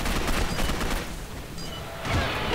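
Rapid salt rifle gunfire in the video game Gotham City Impostors, a dense continuous burst of close, loud shots with a brief dip in intensity before swelling again.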